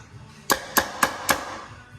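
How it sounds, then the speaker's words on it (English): A hammer strikes a stuck part four times at an even pace during a small block Chevy engine rebuild in a shop, each blow a sharp close metallic clank. "Oh, you gonna hit with a hammer?"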